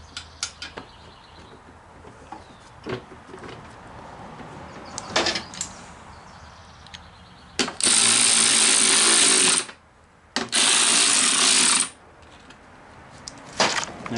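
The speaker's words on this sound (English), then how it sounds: "Now I'm just going to bolt the tank back up." Fuel tank being bolted back onto a Toro 824 snowblower with a power driver: two loud sustained bursts of driving around the bolts, with scattered clicks and handling knocks before and after, no talk.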